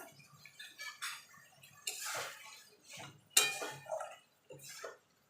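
Elephant foot yam curry (ol dalna) being stirred in a pot, heard as intermittent scraping and clinking bursts of a utensil against the pot, fairly faint, with short pauses between strokes and no talking.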